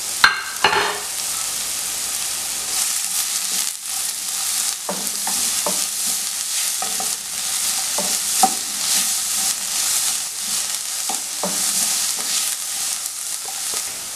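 Finely chopped onion sautés lightly in a pan for chicken cutlets, giving a steady close sizzle broken by repeated scraping stirs and occasional clatters of the spoon, with no talking.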